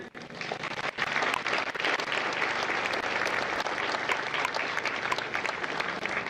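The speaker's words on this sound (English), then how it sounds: "Please give a round of applause to the families of India Company." A crowd at a Marine Corps Recruit Depot San Diego graduation gives a round of applause for the families, a dense, steady, loud sheet of clapping that starts abruptly and continues evenly throughout.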